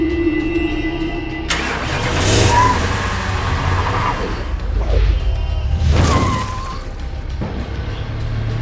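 An animated car speeds along with a loud, close engine roar that surges and whooshes past in two strong swells, heard alone without talk.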